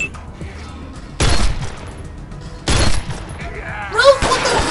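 Bursts of gunfire crackle loudly in the Wasteland 2 Director's Cut video game, two sharp volleys about a second and a half apart, then a third burst overlapping a voice speaking in the game.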